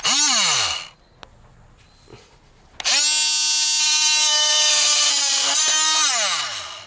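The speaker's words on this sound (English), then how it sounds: "this multi-tool is pretty loud when it gets to cutting metal" A loud oscillating multi-tool grinds metal off a Toyota Century rear window regulator with cracked nylon rollers. A short high-pitched whining burst winds down, then after a pause a longer steady run spins up and fades out at the end.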